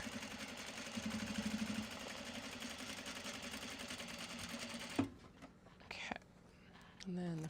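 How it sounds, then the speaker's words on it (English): A domestic sewing machine runs steadily at construction stitch length for about five seconds, sewing the outer fabric of a small travel sling. It stops abruptly, a few soft handling sounds follow, and then the stitching starts again briefly. "And put it at freaking construction length, Katie."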